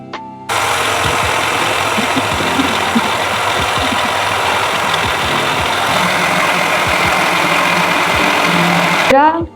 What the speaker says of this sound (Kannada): ನೈಸಾಗಿ ರುಬ್ಕೊಳ್ಳೋದು. ದೊಡ್ಡದ್ರಲ್ಲಿ ರುಬ್ಬಿಲ್ಲ ಅಂತ ನಾ ಚಿಕ್ಕದ್ರಲ್ಲಿ ಹಾಕೊಂಡಿದ್ದೀನಿ